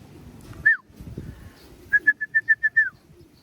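Pigeons outside a house just after rain give one short whistled note, then a quick run of about seven close, clear repeated calls over faint background rustle.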